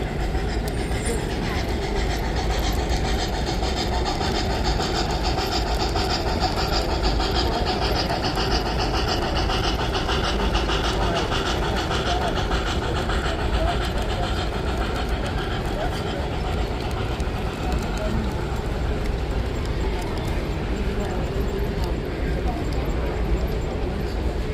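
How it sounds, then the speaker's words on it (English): A model train runs on a display layout at a toy train show, giving a steady rumbling, clattering drone throughout, with a busy hall murmur around it. "Oh, got another train."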